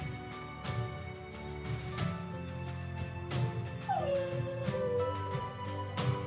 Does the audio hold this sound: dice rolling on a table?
no